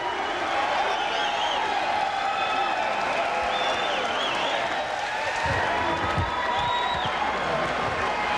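A boxing crowd in Muskogee roars after a knockout, a sustained wash of cheering and applause from a packed arena with a commentator talking over it.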